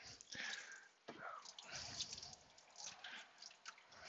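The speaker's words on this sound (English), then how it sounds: "I'm going to rinse it off with water because it has antifreeze in it." Water runs and splashes over a car part being rinsed of antifreeze, with irregular drips and trickling bursts, close but quiet.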